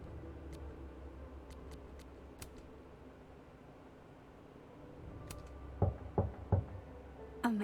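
Three sharp knocks on a door in Life is Strange: Double Exposure, closely spaced near the end over a quiet, low room hum, with a few faint ticks earlier.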